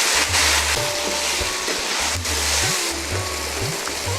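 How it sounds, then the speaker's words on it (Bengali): Onion, ginger and garlic paste sauté in hot oil for a hilsa vegetable curry, giving a constant loud sizzle with repeated stirring scrapes and clinks from a spoon against the pan. "পেঁয়াজ আদা রসুন বাটা এই যে দর্শক দিয়ে দিলাম এটা সুন্দর করে কষাবো"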